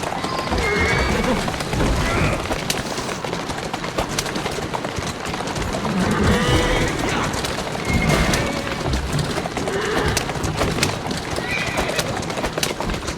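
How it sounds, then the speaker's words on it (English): Steady clip-clop of horse hooves with a couple of whinnies rising over a busy ambient backdrop, continuous throughout, in the video game Assassin's Creed, set in Victorian London. "Who's a good horse?"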